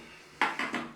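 A Giles Shaving Co. shallow shaving bowl knocks and clinks as it is handled, three close, light ceramic taps in quick succession with a brief ringing decay, set against a quiet room.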